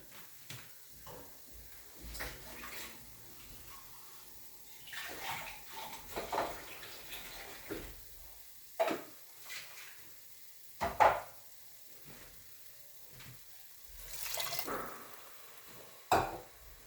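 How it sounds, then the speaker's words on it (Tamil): Water poured into roasting masalas in a pan while cooking a quick mutton gravy, heard as intermittent splashing and sizzling bursts at close range, with quieter gaps between pours and no talk. "அண்ட் இதுக்கு கொஞ்சம் இப்போ நம்ம தண்ணி ஊற்றிக்கலாம்"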